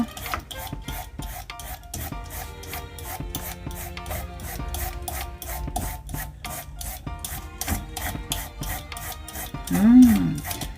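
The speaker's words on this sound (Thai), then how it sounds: "เราจะมาเริ่มขูดกันเลยจ้า" Zucchini being grated produces a fast, regular run of rasping strokes, about three per second, close and steady throughout, with a brief faint voice near the end.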